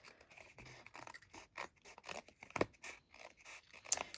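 Scissors trimming excess paper off a handmade card, a quiet close series of short snipping and rustling cuts at an uneven rhythm.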